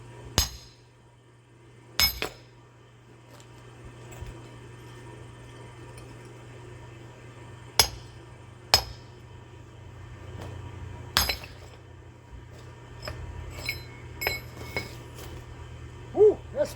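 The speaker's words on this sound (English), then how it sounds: "I'm gonna hit this crack with a wedge." A hammer strikes a wedge driven into a crack in a heated rock outdoors, giving sharp metallic clinks spaced irregularly over several seconds against a steady low hum.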